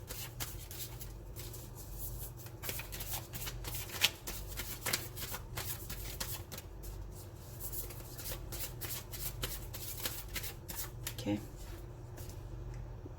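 Divine Feminine Oracle cards riffled and shuffled by hand in an irregular run of soft papery flutters and taps, close and quiet throughout.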